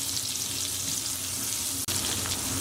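About three tablespoons of butter melt in a pan on low heat, making a continuous close sizzle. A single sharp click or tap cuts in near the end, and nobody speaks.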